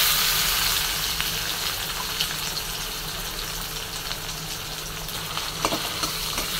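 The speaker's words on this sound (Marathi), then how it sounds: "आणि जिऱ्याच्या नंतर एक कांदा आणि टमाटर टाकून घेतलेले बघा" Steady, loud sizzling of onion and tomato frying in hot oil with mustard seeds and cumin for a bottle gourd curry, a continuous close hiss with faint stirring clicks.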